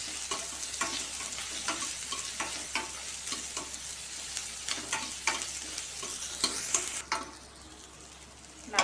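Masala sizzles and fries in a pan with salt for capsicum kuzhambu. A spoon stirs and scrapes in repeated strokes over a steady, quiet sizzle, heard close up with no talk.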